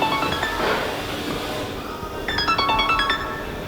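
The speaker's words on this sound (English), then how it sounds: "There it goes again, the phone that never stops." An electronic phone ringtone trills in a repeated burst of bright tones partway through, heard in a car tint and detailing workshop over steady room noise.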